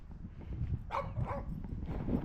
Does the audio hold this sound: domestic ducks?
no